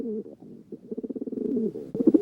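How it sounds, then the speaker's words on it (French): A dove coos in soft, low, rolling phrases with a quick pulsing rhythm, close and alone, ending on a slightly louder burst. "Colombe."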